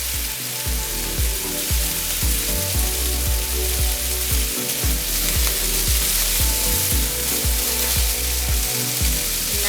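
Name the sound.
chili and jalapeno sizzling while stir-frying drunken noodles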